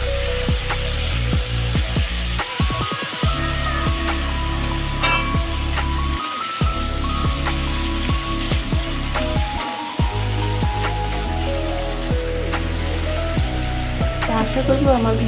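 Prawns fry in a hot pan while being stirred, a steady sizzle running throughout with scraping and clinking from the stirring, close and fairly loud, with a few brief pauses.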